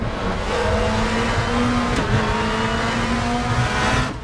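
Race car engines roar steadily in RaceRoom with several cars running together in a pack, a continuous loud drone with shifting engine tones and a brief higher whine near the middle.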